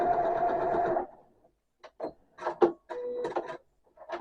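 A small domestic sewing machine stitches fabric in a steady one-second run, then stops; a few soft clicks and handling knocks follow, with some quiet movement of cloth.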